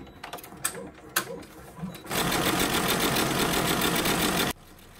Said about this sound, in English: Now it's going to do the satin stitch.